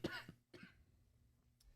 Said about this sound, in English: You may have to cut these coughs out.